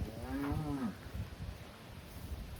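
A cow for sale at a farm gives one short, loud, close moo, followed by quieter farm background noise.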